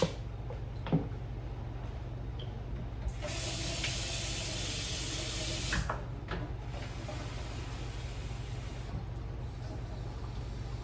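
Tap water running into a container at home, a bright steady hiss that starts partway through, pours for a few seconds, then stops, with quieter splashes and handling noises around it.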